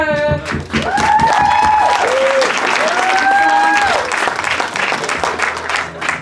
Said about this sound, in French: est-ce que tout le monde peut applaudir